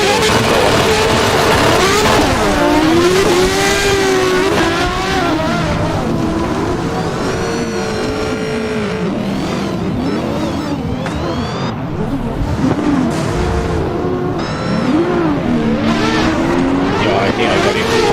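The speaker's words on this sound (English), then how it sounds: "I just need to volume down the engine sound." Car engine in a drift racing video game revving and wailing up and down in pitch, loud and continuous, with tire noise and people talking underneath.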